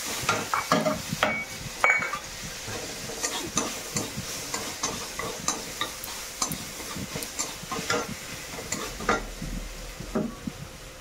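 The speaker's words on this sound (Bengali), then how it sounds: "তারপরে আদা রসুনের পেস্টটা দিয়ে দিচ্ছি।" Ginger-garlic paste fries in oil in a wok under a quiet, steady sizzle while a spatula scrapes and taps rhythmically against the metal, stroke after stroke.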